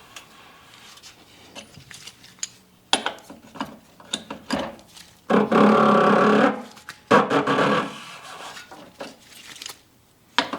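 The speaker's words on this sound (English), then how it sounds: "Now we'll remove the cap that holds the fuel filter itself in place using a 28mm socket." A ratchet with a 28mm socket loosening the fuel filter cap on a Jeep Ecodiesel JL/JT, rapid clicking pawl bursts in several runs, loud and close, separated by brief pauses.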